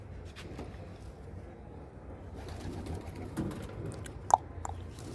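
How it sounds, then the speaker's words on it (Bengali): Giribaz pigeons in a loft, including a brown ghiya chulli bird, give soft, low cooing against a quiet indoor background, with one sharp, brief chirp near the end. "এটা হচ্ছে আমার ঘিয়া চুল্লি কবুতর।"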